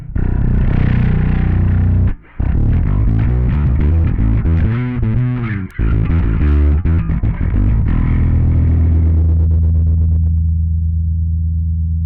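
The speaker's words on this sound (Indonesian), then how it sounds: "Ini kalau kita nyalakan distorsi" Bass guitar run through a Joyo Monomyth bass preamp with its distortion switched on gives a loud, continuous fuzzy growl of played notes, with two brief gaps before a long held note rings out to the end.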